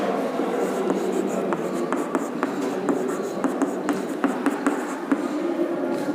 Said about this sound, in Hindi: जैसे मैं यहां लिख दूं